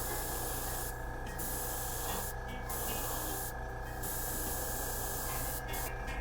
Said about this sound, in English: So let's go ahead and give this a spray here.